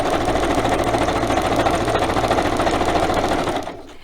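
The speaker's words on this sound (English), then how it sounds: "So I'll put my zigzag on, turn my sewing machine on, and off I go." A sewing machine runs steadily at speed zigzag stitching a hem, with a constant mechanical whir and rattle, then stops abruptly near the end.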